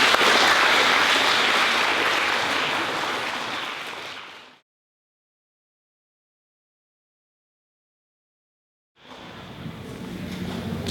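Audience applause at a school fifth grade recognition day, a broad steady clapping that fades out over four seconds, then silence, then clapping resumes near the end.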